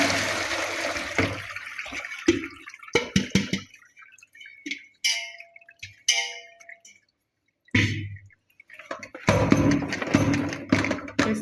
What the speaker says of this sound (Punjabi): ਹੁਣ ਇਹਦਾ ਪਾਣੀ ਛਾਣ ਦਿੰਨੇ ਆ ਇਹਨੂੰ ਪਾਣੀ ਚੋਂ ਕੱਢ ਲੈਣੇ ਆਪਾਂ